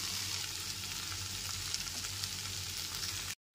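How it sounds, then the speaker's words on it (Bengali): Fried soybean chunks and potatoes sizzle in a pan, a steady close frying hiss that cuts out abruptly near the end. "আলুগুলো কষাতে কষাতেই ভেজে নেওয়া সয়াবিনের টুকরোগুলোকে দিয়ে দিলাম।"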